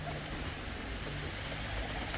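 Giant-winged Postalar and Ardioza Postalar pigeons cooing softly inside their coop, faint low coos under a steady background hiss, no voices.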